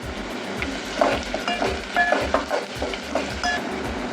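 Crushed ginger and garlic drop into hot oil already seasoned with chili and bay leaf for a chicken haldi rassa, giving a steady close sizzle with small crackles and utensil taps and no talk.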